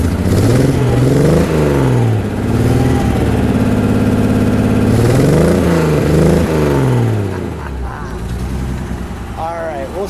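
A silver 1956 Mercedes-Benz 300SL Gullwing engine idles loud and close, then revs up twice in rising sweeps before settling back to a rough idle that fades slightly toward the end.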